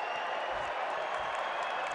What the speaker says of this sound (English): the crowd here at Extra Mile Arena really wants to get into this